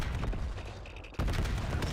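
Gunfire and explosions in Call of Duty played on a new gaming PC, a dense rumbling barrage of blasts and shots, moderately loud and continuous with a brief dip before the noise swells again.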